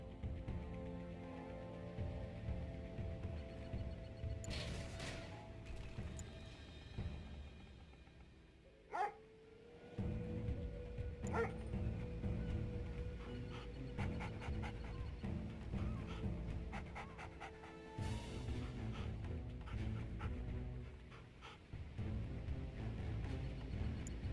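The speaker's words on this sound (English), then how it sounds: "Attack dogs are trained for amphibious scouting and light combat." Attack dogs in the video game Command & Conquer: Red Alert 3 Uprising, giving a few barks and yips over a low, busy game soundscape, fairly faint and heard alone without speech.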